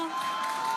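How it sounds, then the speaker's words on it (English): A large crowd cheering and shouting from a distance during a Starship launch with the Super Heavy booster, a steady roar of voices with no break. "you can hear the crowd is very excited about it"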